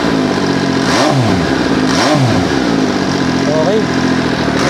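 An MV Agusta Superveloce 800 sport motorcycle revs twice in quick succession. Each rev rises and falls sharply over a constant rumble of traffic, and a voice speaks briefly.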